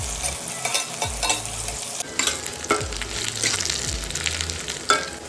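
Onion frying in oil in a kadai with bay leaf, cumin and dried red chilli, a steady close sizzle with stirring scrapes and a few louder clatters.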